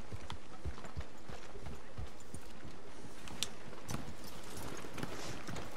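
Rhythmic clip-clop of a horse's hooves at a steady trot in the video game Red Dead Redemption 2, fairly close and moderately loud, with faint background ambience and no talking.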